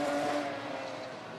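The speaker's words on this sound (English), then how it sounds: "The car sounds great." A GT4 race car engine at Spa-Francorchamps, a smaller nimble machine, droning steadily at high revs with a slight fall in pitch as it moves away, loud and continuous with no talking.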